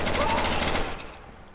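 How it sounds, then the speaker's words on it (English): Rapid automatic gunfire in the video game Garry's Mod, loud and dense bursts that fade toward the end, with no talk over it. "He's shooting. He's the one shooting."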